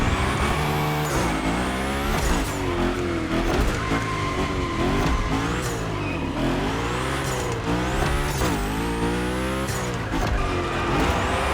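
The Hoonicorn car in The Crew Motorfest slides through gymkhana moves, its engine screaming and revving up and down repeatedly in loud, near swells while tires squeal through the drifts.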